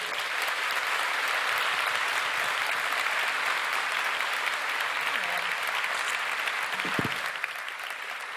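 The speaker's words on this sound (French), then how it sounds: "avec un tonnerre d'applaudissements" Loud, sustained applause from an audience at the opening of a national thesis-in-180-seconds final ceremony, an unbroken wash of clapping that stays even throughout.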